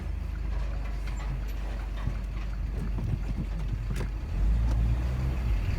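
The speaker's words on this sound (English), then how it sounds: "I just had to stop for that lorry that's coming out" A lorry pulls out onto a village road in a valley, its low engine rumble building and growing louder toward the end over steady background traffic noise.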